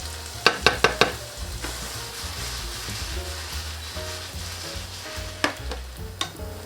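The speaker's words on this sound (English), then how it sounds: "we're gonna saute everything for about 4 to 5 minutes." Diced potatoes saute in a hot pan with a constant sizzle and crackle, broken up by several sharp clacks and scrapes of stirring close by, with a quick run of knocks near the start and more later, and no voices.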